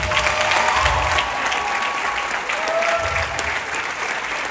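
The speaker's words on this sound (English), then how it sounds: "Give them a round of applause." Sustained, dense clapping fills a hall as a crowd applauds bodybuilding athletes after a competition, steady and fairly loud with no pauses.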